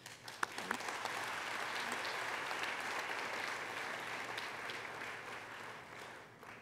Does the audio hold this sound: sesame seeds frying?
no